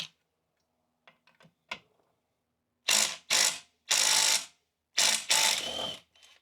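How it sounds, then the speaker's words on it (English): Bolts are being removed from a 2022-on Subaru WRX (VB) during an STI six-speed swap, with a few faint clicks followed by four loud, close mechanical ratcheting bursts of varying length. "We'll just flip it over and zap out those bolts."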